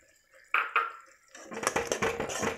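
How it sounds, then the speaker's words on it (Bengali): Whisked sour yogurt goes into a pan of softened tomatoes for Bengali chhanar dalna, heard as two sharp close clinks of a utensil against the pan followed by wet scraping and stirring noises. "এরপর আমরা ফেটিয়ে রাখা টক দইটা দিয়ে দেবো"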